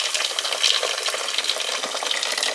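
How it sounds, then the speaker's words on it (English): Boiling water poured over old hardware sitting in a baking soda and vinegar mix, a steady close hissing, splashing stream with fizzing that continues evenly throughout. "And some boiling water."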